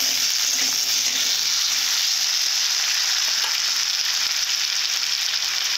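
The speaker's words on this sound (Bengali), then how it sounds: "কচুগুলো এইভাবে ভেজে নেব।" Taro pieces frying in hot oil in a wok give off a loud, steady hiss and crackle of sizzling that continues unbroken throughout, with no speech.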